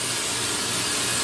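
A spray can steadily coats the metal fan blades of a 1932 Delco 16-inch fan with paint, making one continuous, even hiss from start to finish with no voice over it.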